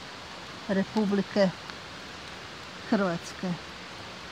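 Rain falls steadily in a forest, a soft continuous wash under a man's short bursts of speech.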